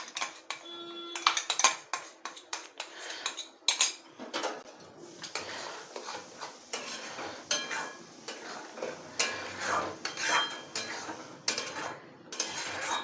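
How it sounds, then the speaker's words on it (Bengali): A spoon clatters and scrapes in a pan as cashews, melon seed paste and yogurt are stirred together, making irregular metallic knocks and taps, close and fairly loud, with no talking. "আমি এর মধ্যে কাজু বাদাম, চারমগজ বাটা এবং টক দইটা ঢেলে দিচ্ছি।"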